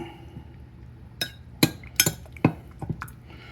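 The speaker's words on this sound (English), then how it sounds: "And I stir that." A spoon stirring tea in a teacup, several sharp ceramic clinks in an irregular burst, close and clear with no talk.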